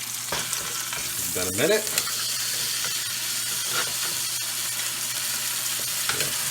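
Steak and crushed garlic sizzle in a hot frying pan, a steady dense crackle and hiss running throughout with a brief louder flare of spitting; a voice speaks briefly over it.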